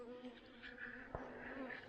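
Bees buzzing inside a hive box during a fall inspection, a faint, steady layered drone with a brief knock partway through, no voices.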